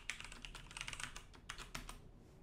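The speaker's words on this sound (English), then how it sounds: "I'm just gonna have to type in my password." A password being typed on a computer keyboard, a quick run of soft close key clicks in an uneven rhythm, faint overall and with no voices.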